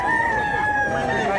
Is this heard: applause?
no